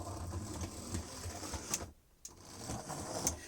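A heavy O gauge model locomotive runs on cork-laid track over a hollow baseboard, giving a steady, busy mechanical whirring and clicking rumble with a brief pause partway through, close and fairly quiet.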